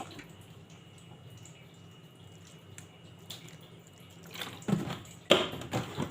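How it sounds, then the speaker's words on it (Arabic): A spoonful of vinegar splashes briefly onto chopped vegetables, onion, garlic, peppers and carrots, a short close liquid patter after a quiet stretch. "هنزل بمعلقه خل"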